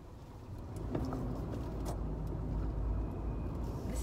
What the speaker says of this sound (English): I'm driving by myself for the first time in a parking lot just to bring the car over